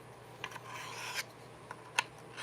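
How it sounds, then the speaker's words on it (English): A pocket knife being sharpened by hand with a medium-grit stone, making soft rasping strokes in short bursts, with a sharper scrape near the end, all fairly quiet and close. "I'm not an expert at sharpening"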